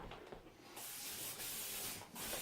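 Grease is sprayed onto a baking pan in a few close, soft hissing bursts that run almost without a break over a couple of seconds, fairly faint overall.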